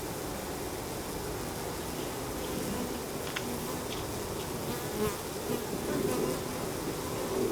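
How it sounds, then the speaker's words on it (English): A dense, steady buzzing of many honeybees at an open hive fills the air, close and continuous, rising slightly in intensity toward the end. "There's a lot of bees there."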